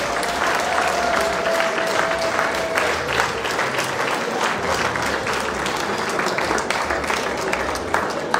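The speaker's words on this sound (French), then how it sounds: "Je vous demande de les applaudir très fort, tous les membres du comité." Clapping from the crowd at a Fraternité Valléenne association evening as the committee members are honoured, sustained and fairly close, with individual claps standing out sharply within the even roar.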